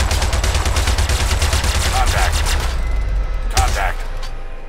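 Rapid weapons fire from spacecraft combat in the game Star Citizen, a dense loud barrage of repeated shots and bursts that continues steadily, with a sharper blast near the end before it thins out.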